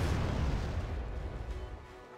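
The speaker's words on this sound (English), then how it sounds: "Oh, there's the artillery." Artillery fire from the Wargame: Red Dragon video game sounds as a low, rumbling boom that fades into a fairly quiet roll of distant blasts.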